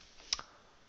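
A single sharp mouse click, a short double click, sounds close and crisp while working in Revit architectural software, with otherwise quiet room tone around it.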